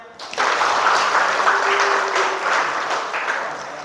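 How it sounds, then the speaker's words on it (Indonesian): An audience claps at a university teaching session, a dense burst of applause lasting a few seconds, fairly close and steady before tapering off. "Tepuk tangan untuk Amel."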